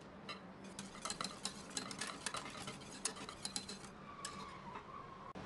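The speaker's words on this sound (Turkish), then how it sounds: "Bir kaseye bol miktarda yoğurt ilavesi yaptıktan sonra güzelce çırptım" Yogurt is whisked in a bowl with quick, rhythmic clicks and taps of the utensil against the sides. The strokes come close and fairly quiet, in a steady flurry that eases near the end.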